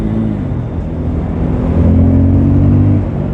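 A Bajaj Pulsar N250 motorcycle with a misfiring issue idles close by with a low, even engine rumble. Partway through, the throttle is opened and the note rises into a steadier, louder drone.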